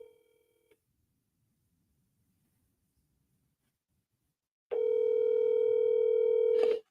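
A telephone line starts with a short electronic tone, goes quiet for several seconds and then sounds a long, steady, loud tone while a call goes unanswered, with no voices.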